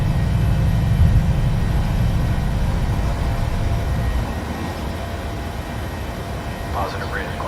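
Jet engines of a PMDG 737-700 at takeoff thrust in Microsoft Flight Simulator, a steady low roar rolling down the runway from Basel and easing slightly partway through, with cockpit talk over the rumble.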